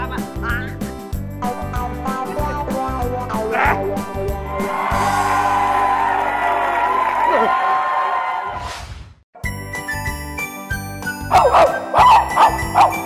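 A dog barks several times in a Vietnamese Lunar New Year comedy sketch, with loud music playing throughout and voices in the background.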